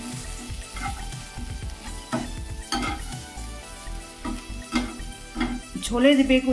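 Eggplant frying in oil in a covered pan: a steady sizzle broken by repeated scraping stirs and clinks of a utensil against the pan, loud and close.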